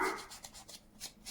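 An anxious dog gives a short high bark followed by a few faint whimpering yelps, heard at moderate distance in a quiet room.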